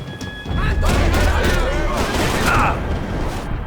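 Shotgun fire in the Max Payne 3 video game, dense overlapping booming blasts with a rumbling low end, loud and close, alongside brief voices.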